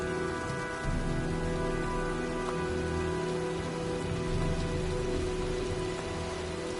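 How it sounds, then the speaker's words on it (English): Rain storm in the PS4 game Heavy Rain: a steady, dense downpour hiss with a continuous low droning undertone, no talking. "looks like a storm's coming"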